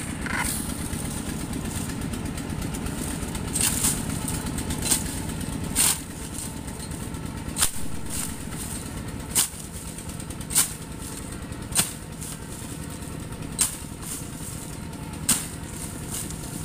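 A motorcycle engine runs steadily throughout at a moderate distance with a mid-pitched drone. Sharp clicks or knocks break through it at irregular intervals.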